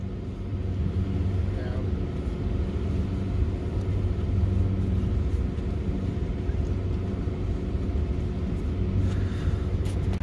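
A pickup truck being driven, its engine giving a steady low rumble with road noise throughout, close and continuous, with no clear revving or changes in pace.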